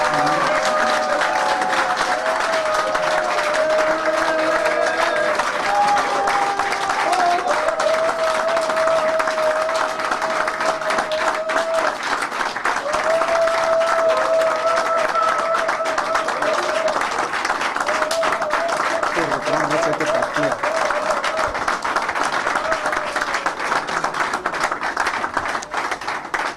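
An audience applauds during a political speech, a dense sustained roar of clapping that continues throughout, with a voice or crowd sounds mixed in beneath it.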